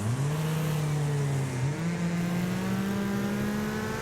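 A racing car engine in a streamed video game holds a steady, loud drone, briefly dipping and shifting pitch around a gear change before climbing smoothly again, with no voices present.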